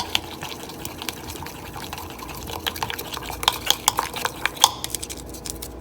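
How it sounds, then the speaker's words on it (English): A spoon stirs garlic powder through a shrimp Cajun bake, giving wet, squelching scrapes and a run of quick clicks and taps toward the end, close and fairly loud with no speech. "Stir it."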